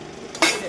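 Ghugni being stirred in a cooking pan, a single brief scrape and clink of a spoon against the metal, close and moderately loud, with no talking.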